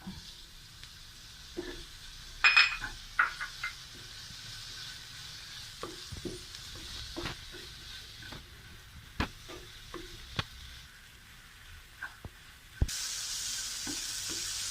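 Chopped tomato sautés in a pan for dal fry, giving a quiet, steady sizzle with occasional sharp clicks and scrapes from stirring.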